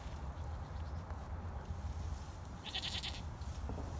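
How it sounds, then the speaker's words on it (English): Goats bleat in a quiet outdoor setting over a low steady rumble, with one higher, wavering bleat standing out partway through. "And here are the goats."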